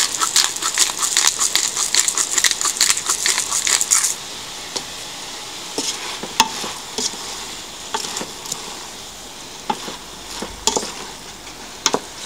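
Cabbage and rice stir-fry with chicken and vegetables is turned in a hot pan: rapid rhythmic scraping and rustling for about four seconds, then a quieter sizzle broken by sharp spatula clacks against the pan, close by, no talking.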